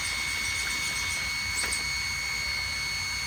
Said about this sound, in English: Let me actually turn it on real quick. I can show you the servo.